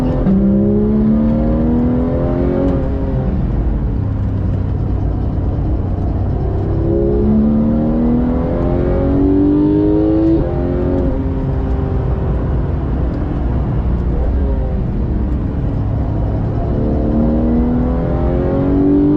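Porsche 991.2 GT3 accelerating hard on the Val de Vienne circuit, a loud, close engine note rising steadily through the gears with repeated upward sweeps, heard continuously without talk.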